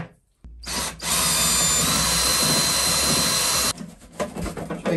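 A power drill bores a pilot hole in a camper van, spinning up after a brief pause into a loud, steady high whine for about three seconds, then cutting off into scattered handling noises.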